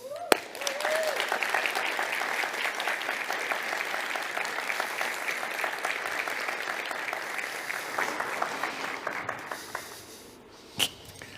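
An audience at a food trends event bursts into sustained applause as a chef is welcomed on stage, a dense clapping wash that tapers off near the end.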